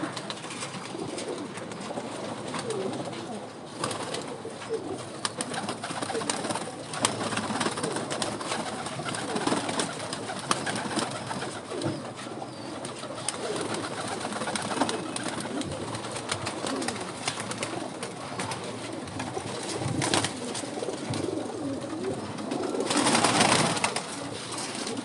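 Pigeons cooing continuously in a loft, soft throaty coos overlapping at moderate distance amid busy rustling and background noise.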